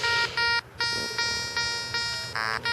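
Electronic metal detector tones sound over a buried coin in a search outdoors: steady high pitched beeps in short repeated bursts with brief gaps, close and clear, with no talk.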